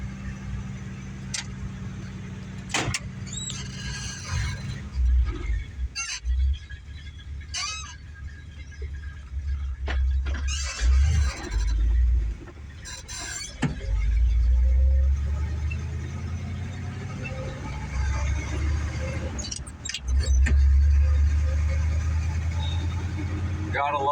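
A car with a 4-speed manual gearbox, taken out for the first time in months, starts and runs close by, its engine rumble rising and falling in low surges between clicks and handling noises, while people talk intermittently over it.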